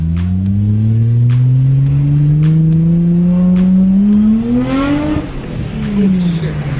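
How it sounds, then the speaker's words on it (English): A Nissan R32 GT-R fitted with an APEXi power intake revs hard and accelerates, engine note climbing loud and close before a shift and renewed pull, with intake whoosh and occasional talk inside the car. "the car now, it's almost as if it spools up even faster."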